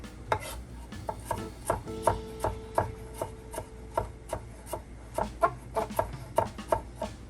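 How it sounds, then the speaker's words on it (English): A knife chops shrimp, crab and onion for a seafood salad on a cutting board, a rapid irregular run of close, crisp strikes in short bursts with no talking. "you're gonna just go back over them and chop them up some more"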